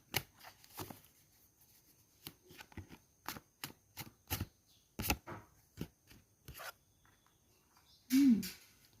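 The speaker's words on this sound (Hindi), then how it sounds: "चलो और हम कार्ड निकालते हैं, 2-3 कार्ड।" Tarot cards are drawn and shuffled at close range, giving a quiet series of soft card slaps and slides with gaps between them. A louder rustle of the deck comes near the end.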